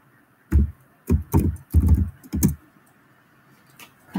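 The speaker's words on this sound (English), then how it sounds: "Let me type for you guys." Typing on a computer keyboard in a few close bursts of clattering keystrokes separated by short pauses, with no one talking.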